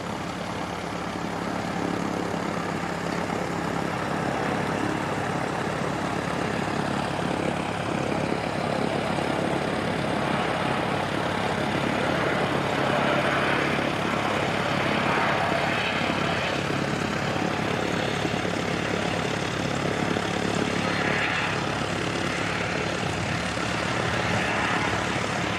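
Aircraft landing at Christchurch Airport, a loud continuous engine roar with broadband rushing that holds steady throughout, swelling slightly near the middle.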